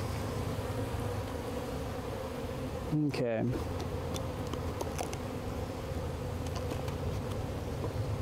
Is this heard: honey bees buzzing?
yes